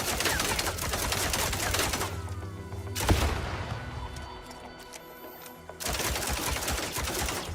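Gunfire in a GTA game: dense bursts of rapid shots, then a pause broken by one loud bang, then rapid fire again toward the end.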